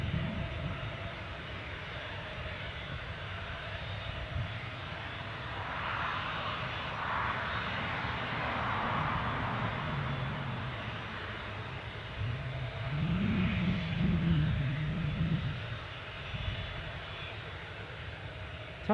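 An airliner passes over the far side of Newcastle airport, a sustained distant engine roar and rumble that swells mid-pass and holds steady throughout, with no talk.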